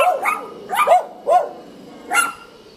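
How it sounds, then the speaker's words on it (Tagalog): Dogs barking fiercely in short bursts, several separate barks and yips spread across the moment, fairly close and loud, with no talk over them. "Tatapang ng mga aso nila."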